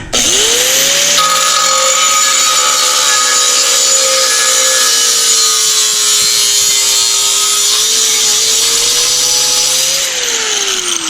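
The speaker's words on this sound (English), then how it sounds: "these DeWalt blades are cutting through that solid steel like a hot knife with butter" DeWalt 4.5 inch angle grinder cutting through solid steel: a loud, continuous high whine and gritty rasp of the disc biting metal, the motor pitch sagging slightly under load, close and unbroken for about eleven seconds.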